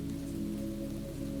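Steady rain falls continuously as a soft, even patter, with a low, sustained tonal hum running underneath and no voices.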